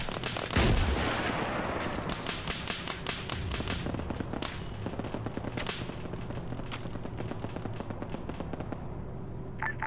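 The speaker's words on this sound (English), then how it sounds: "We are shooting the SPG Techie." Gunfire in the military game Arma 3, with rapid bursts of sharp shots and a heavy boom early on, repeating steadily throughout at close range.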